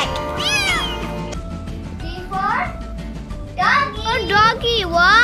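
A cat meows repeatedly, close and clear, with a voice in the background.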